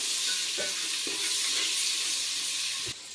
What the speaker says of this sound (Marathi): आता आपण त्यामध्ये आलं लसूणची पेस्ट टाकूया आलं लसूण पण थोडंसं परतून घेऊया त्यामध्ये